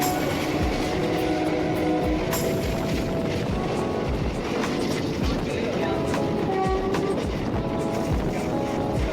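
A passenger train between Barddhaman and Asansol rumbles into Andal Junction, with loud, continuous rolling noise and irregular clattering wheel clicks over the rail joints throughout.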